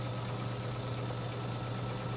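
A sewing machine fitted with a walking foot stitches a quarter inch from the edge of the binding on a T-shirt quilt, giving a steady, close mechanical hum with a constant low whir and no pauses.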